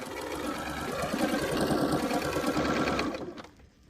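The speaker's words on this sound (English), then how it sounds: "You can start sewing all the way around." A sewing machine runs continuously, stitching binding around a fabric potholder; a close, steady whirring motor with rapid needle chatter for about three seconds, then it slows and stops.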